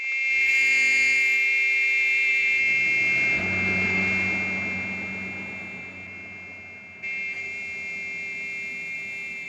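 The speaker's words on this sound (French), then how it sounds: "Le klaxon, le klaxon!" A car horn blares in a crime thriller: a sustained, piercing steady tone held loud for the whole stretch, briefly dipping near the end before resuming, with a rumbling low background beneath it.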